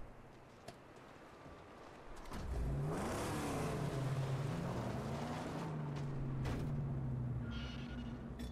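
A car engine in the Mad Max video game revs up and holds a droning, rising and falling tone, loud and close, steady for several seconds before easing slightly, with no talk.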